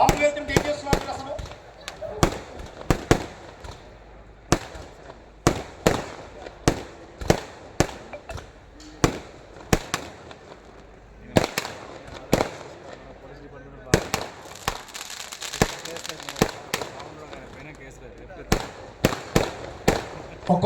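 Firecrackers bang repeatedly at an outdoor event, a long irregular run of sharp loud cracks and pops, some in quick clusters, with voices talking underneath.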